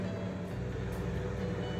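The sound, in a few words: blender blending orange and carrot juice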